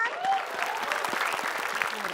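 Audience applause fills the room, a dense steady patter of many hands clapping at moderate volume, with faint voices and whoops mixed in.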